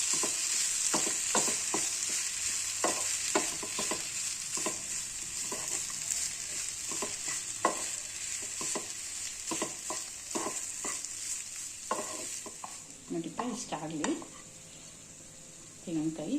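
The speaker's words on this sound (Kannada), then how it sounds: "ಸ್ವಲ್ಪ ರೋಸ್ಟ್ ಮಾಡಿ ತೆಂಗಿನಕಾಯಿ ಚೆನ್ನಾಗಿರುತ್ತೆ" Grated coconut roasts in a pan, a steady close sizzle broken by repeated spatula scrapes and taps, and the sizzle fades near the end.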